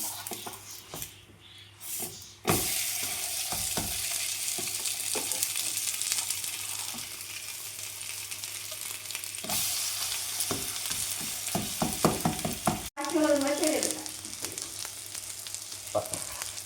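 Food fries in ghee in a pan with a continuous loud sizzle, broken by scraping stirs and a flip partway through, close up.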